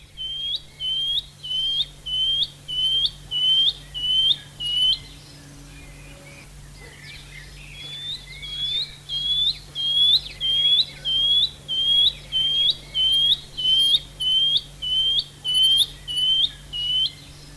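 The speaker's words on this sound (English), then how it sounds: "And this is the sound of the shining cuckoo." A shining cuckoo gives a long series of rising, whistled calls, evenly spaced and insistent, with a short pause partway through before the series continues.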